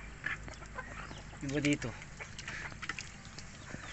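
Native chickens and roosters on a farm, a short burst of clucking rising midway over a low background, while people talk nearby throughout.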